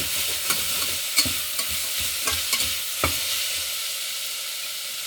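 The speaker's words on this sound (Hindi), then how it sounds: "अब हम अनियन को हल्का सा फ्राई करते हैं।" Onion fries lightly in a pan for vegetable manchurian, a steady hiss of sizzling oil punctuated by several sharp scrapes and clicks of stirring, with no voices.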